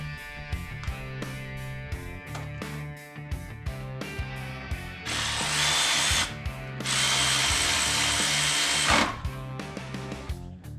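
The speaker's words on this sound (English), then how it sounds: "electric ratchets, gotta love them" Electric ratchet whirring in short bursts and two longer runs while working on a Camaro engine, loud and close over a steady background.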